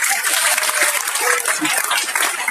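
Steady audience applause at a creators' challenge awards ceremony, a dense wash of many hands clapping at close range, continuous throughout the short stretch.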